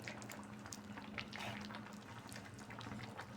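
Carrot halwa simmers in a pan as the water boils off, a soft, steady bubbling and faint crackle under a low hum, quiet and continuous with no talking.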